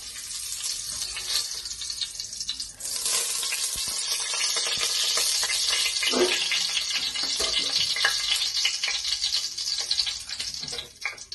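Ghee sizzles and crackles steadily in a hot pan while cooking Kerala-style beef biryani, a dense, close frying hiss with occasional stirring clatter running unbroken for about eleven seconds.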